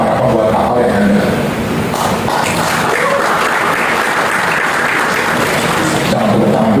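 An audience bursts into sustained applause, dense, loud clapping from a large crowd that holds steady throughout with no pause.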